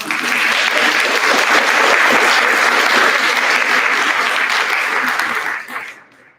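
A graduation crowd gives educators sustained, loud, dense applause, steady for over five seconds before tapering off quickly at the end.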